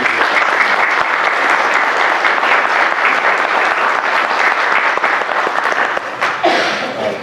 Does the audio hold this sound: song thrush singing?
no